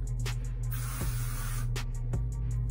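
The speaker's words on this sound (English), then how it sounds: "I'm gonna take my Marula Oil light spray" A spray bottle of marula hair oil lets out one soft hissing burst lasting about a second, with light clicks of the nozzle before and after.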